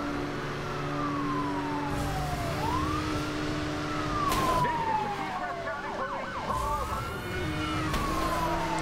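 Police car sirens wailing in rising and falling sweeps during a chase in the Need for Speed Hot Pursuit video game, several overlapping over steady engine roar, loud and continuous.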